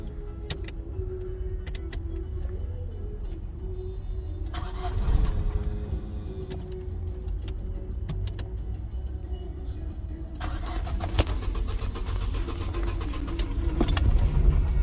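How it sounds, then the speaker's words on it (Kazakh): A Daewoo Nexia 2 with a fault that makes it stall in the street runs close by, a steady engine drone with two surges of louder, rattling activity partway through. "Қане бір оталдырып көресің ба?"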